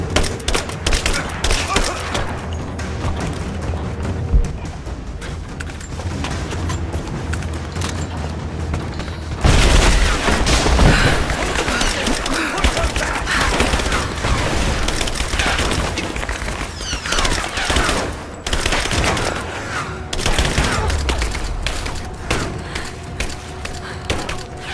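Gunfire in the video game Rise of the Tomb Raider, dense bursts of automatic fire and heavy booming thuds roaring nonstop and loud, intensifying partway through, with shouted voices mixed in.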